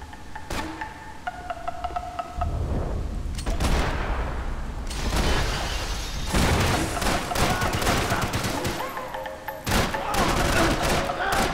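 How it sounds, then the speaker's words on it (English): Dense, rapid gunfire from Max Payne 3, ringing through a nightclub with a dance floor and VIP lounge. Bursts and single shots pile up almost continuously, loud and close, with a few brief pauses between volleys. "No, I'm just gonna lie here while you shoot at me."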